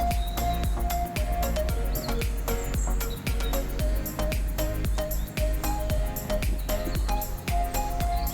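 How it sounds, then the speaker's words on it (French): Birds chirp and sing along a riverside fishing spot at Cahuzac-sur-Adour, with repeated sharp clicks and a steady low hum of distant traffic running underneath. "On entend les oiseaux."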